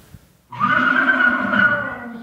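A person's voice imitates a horse whinny, a sustained, wavering neigh that starts abruptly after a moment of quiet.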